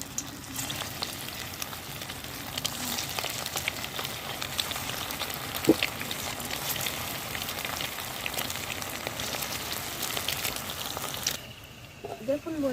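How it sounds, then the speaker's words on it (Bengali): Egg kofta balls fry in hot oil in a wok, giving a steady, dense sizzle with crackling and occasional clinks throughout, close and moderately loud, easing off near the end. "এবার আমি গরম তেলে ভেজে নেব।"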